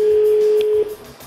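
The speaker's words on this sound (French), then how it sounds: "Deuxième sonnerie." A single telephone ring on a live radio set, a steady electronic tone lasting under a second and then cutting off, close and fairly loud, with murmured voices in the background.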